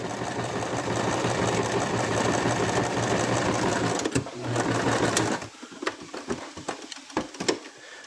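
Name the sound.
sewing machine back stitching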